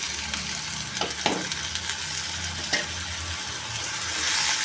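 Turkey berries and small shallots sauté in a pan, giving a constant close sizzle broken by a few sharp stirring clicks and scrapes, with no voices.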